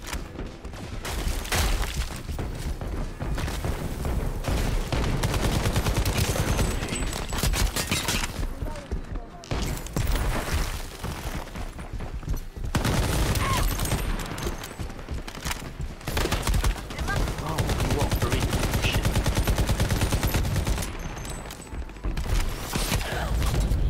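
Continuous gunfire in a first-person shooter video game, dense fusillades of rapid shots going on almost without pause, loud and close, with players talking over the shooting.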